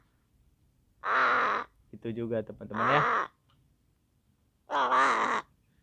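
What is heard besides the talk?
crows cawing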